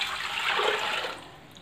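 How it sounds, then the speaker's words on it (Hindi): Water pours steadily into a pressure cooker holding raw meat (gosht) for a tinda gosht curry, a continuous splashing rush at close range that fades slightly toward the end. "साथ इसके डालते हैं जी पानी।"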